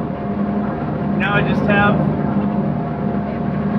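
A John Deere 4430 tractor pulling a 926 MoCo mower drones steadily at close range through the whole clip, while someone speaks briefly over the engine.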